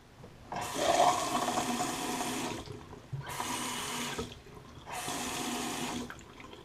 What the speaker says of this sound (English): let's go ahead and turn this water on